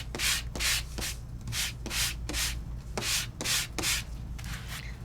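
Card stock being sanded by hand, a series of about nine rhythmic rasping strokes, close and fairly loud, evenly spaced with no talking.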